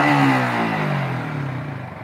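A Yamaha Vixion motorcycle engine, running after a valve-clearance adjustment, revs close by and then winds down in pitch, with a steady mechanical drone and no talking.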